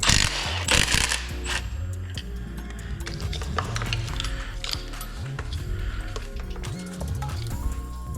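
Tool work on a 6.0L Powerstroke diesel engine as the belt tensioner comes off, with close metallic clanks, ratcheting rattles and knocks in irregular bursts throughout.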